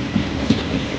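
A train pulls out of Lucknow Junction, a brief, steady rolling rumble with a couple of soft knocks.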